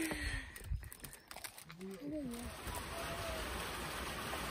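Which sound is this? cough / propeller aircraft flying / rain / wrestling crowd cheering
rain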